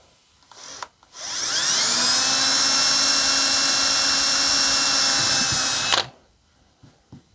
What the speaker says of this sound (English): And then using my 3/32 inch drill bit, I'll drill a pilot hole.